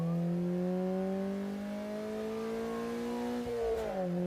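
A car engine drones at speed with a rising, steady roar, then the pitch drops sharply near the end as if braking or shifting, a radio-drama effect heard alone without voices.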